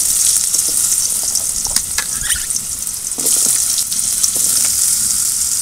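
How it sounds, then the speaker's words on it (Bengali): Potatoes hiss and sizzle steadily as they fry in hot mustard oil in a wok, a continuous bright crackle with a few sharper pops and a brief dip midway, close and fairly loud with no talking. "আলুগুলো ভাজার জন্য দিয়ে দেব।"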